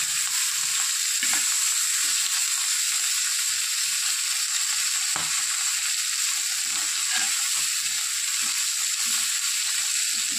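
Masala fish frying in a pan, a steady bright sizzle of hot oil that runs unbroken throughout, with a few soft knocks and scrapes rising above it now and then.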